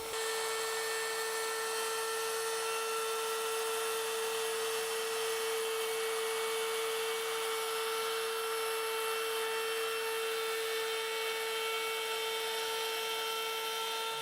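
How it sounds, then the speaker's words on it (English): A loud, continuous high-pitched whine of a router cutting material for a magnetic knife block holds steady from start to finish without pause. "I really don't know how it's going to react to being cut with the router."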